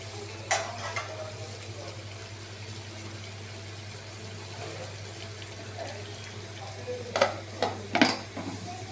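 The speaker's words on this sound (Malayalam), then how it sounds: "ഒന്ന് ഇളക്കിയതിന് ശേഷം നമുക്ക് വീണ്ടും മൂടി വയ്ക്കാം" Spoon stirring chicken curry in a pot, soft scraping and faint liquid sloshing over a low steady hum, with a few louder clinks of the spoon toward the end.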